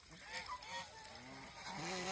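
Farm ducks that feed on water hyacinth honk and quack in a quick run of overlapping calls, close by and moderately loud, over faint background noise.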